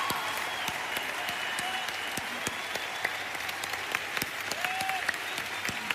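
A church congregation applauds continuously, a dense spread of clapping hands filling the room while praising God; the sound is moderately distant and steady, with faint voices mixed in the crowd.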